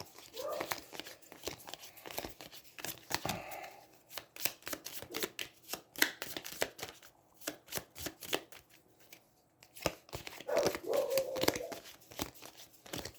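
Cards from an Aeons End deck-building game being shuffled by hand at close range, a series of quick crisp riffles and snaps separated by brief pauses, fairly quiet overall.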